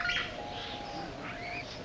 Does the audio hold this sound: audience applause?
no